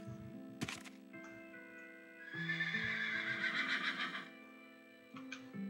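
A horse in a video game whinnies loudly in a long, wavering neigh between quick clip-clop hoof hits, all over sustained game music tones.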